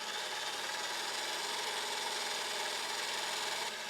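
An electric whisk beating egg whites in a mixing bowl, a constant buzzing whir that holds steady and fairly quiet throughout, with no talk.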